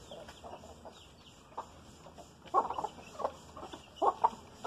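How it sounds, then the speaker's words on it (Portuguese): Chickens and roosters cluck in short, irregular bursts against a quiet background, with a few louder calls standing out. "Esse é galo também."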